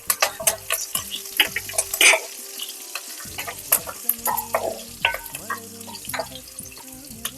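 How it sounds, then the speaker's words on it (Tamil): Crushed ginger, garlic and curry leaves spit and sizzle in a frying pan, with loud stirring scrapes and knocks against the pan coming in uneven bursts close by. "இப்போ தட்டி வச்சிருக்கிற இஞ்சியும் பூண்டையும் இதுல சேர்த்துக்கலாம்"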